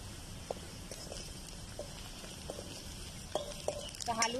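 Garam masala, turmeric and salt stirred in a pan for a tur bean bhaji: soft, quiet scraping and light taps in an even rhythm, with a few brighter clinks toward the end.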